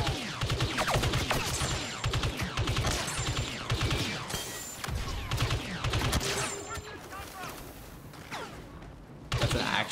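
Rapid, heavy blaster and sniper fire fills a Star Wars Battlefront 2 multiplayer battle, with dense bursts of shots pounding continuously up close, crashes mixed in and a brief lull before a final volley.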